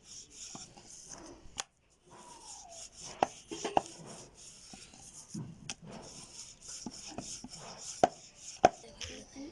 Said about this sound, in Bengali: আচ্ছা, এই পর্যায়ে আমি বেলে নিচ্ছি।